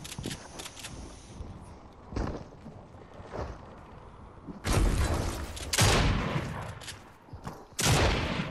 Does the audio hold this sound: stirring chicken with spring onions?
no